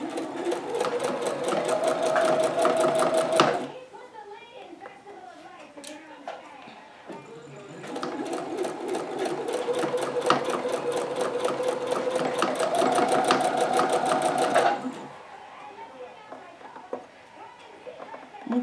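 A sewing machine stitches a jacket collar converted from a hood, running in two long, steady, rapid bursts of needle chatter with a quiet pause between them.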